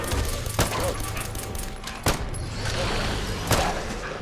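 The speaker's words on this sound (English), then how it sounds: "Oh, this is a submachine gun. Sorry, it's not actually automatic firing." Chinese SMG in Fallout London, a submachine gun fired in single shots rather than automatic, giving three sharp separate reports spaced over a few seconds against a steady background hum of game ambience.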